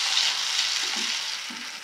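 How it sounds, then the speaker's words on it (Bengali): Garlic fried golden in butter sizzles steadily while chili sauce is stirred in, a constant close frying hiss with a couple of soft low stirring scrapes. "চিলি সসটাকে আমি মিশিয়ে নিব।"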